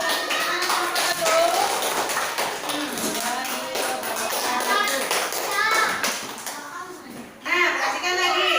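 Classroom children clap for a group of pupils, a dense patter of small hands under lively kids' chatter and a teacher's voice, fading briefly near the end before picking up again.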